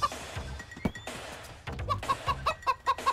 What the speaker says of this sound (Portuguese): tem um frango